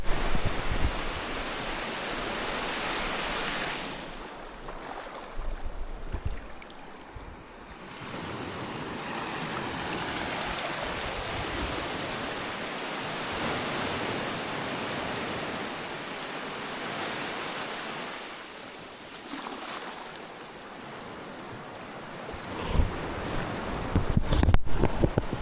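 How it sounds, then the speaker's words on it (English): Ocean waves roll in and break on the shore in long washes of surf, with gusty wind buffeting the microphone throughout. "Just listen to the sound of the waves."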